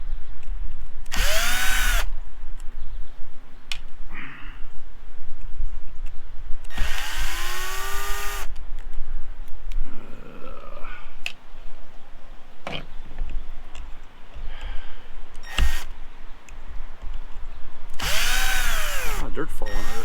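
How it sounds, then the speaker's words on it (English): Several loud bursts of a power drill whirring and spinning up as it removes screws from a Ford F450, separated by quieter pauses with faint handling noises. "I might as well use a drill, be a little quicker."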